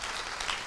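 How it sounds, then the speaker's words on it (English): Applause at a live conference event, a brief dense wash of clapping, steady and moderately loud with no pauses. "Big applause to all the team."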